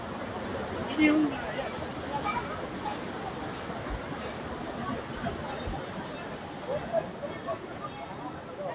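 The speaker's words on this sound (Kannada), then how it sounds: "ಇಷ್ಟೆಲ್ಲ ನೀರು ಬರ್ತದೆ ಮ್ಯಾಲಿನಿಂದ." Water pours steadily down from above at the Muktinath temple in Nepal, a continuous broadband rush with faint voices murmuring in the background.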